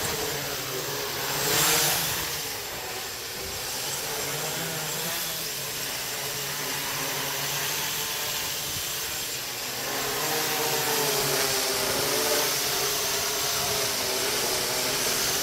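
An MJX Bugs 3 drone with folding propellers hovers with a continuous whirring buzz that swells and eases slightly, steady and fairly close throughout.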